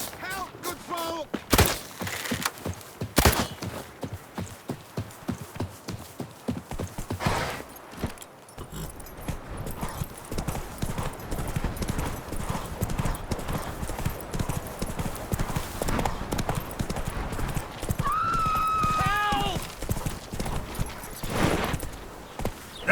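Roach the horse trots steadily in The Witcher 3, hooves clip-clopping in a quick, continuous rhythm up close. Other game sounds and brief voices run underneath.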